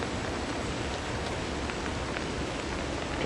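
Steady rain falling outdoors over a flooded garden lot with plants, a dense, even hiss with scattered drop patter, moderately loud and unbroken.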